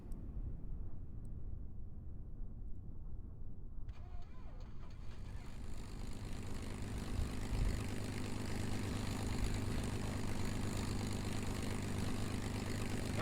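A propeller airplane in Kerbal Space Program idles, then its engine swells into a steady, louder drone as it rolls for takeoff, building to a sustained roar near the end.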